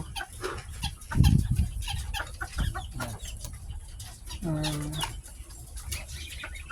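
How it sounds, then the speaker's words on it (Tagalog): Chickens cluck and call while eating at feeding time on a small farm, with scattered clucks, a rooster-like call and some pecking noise close by, while a person speaks intermittently. "Kumakain na ang mga manok guys."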